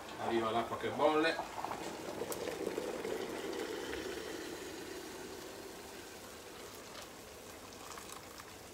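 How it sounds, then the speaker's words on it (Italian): Water coming to a boil in a pot on a home stove while Sardinian dishes are cooked: a soft, steady bubbling hiss under an opening moment of speech, fading gently over the rest. "Arriva l'acqua che bolle"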